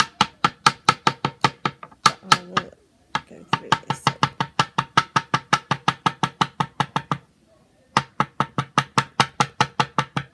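Steady, loud pounding of a wooden rolling pin striking plants wrapped in cloth on a wooden chopping board, a rapid run of sharp knocks broken by two short pauses, with a brief spoken phrase.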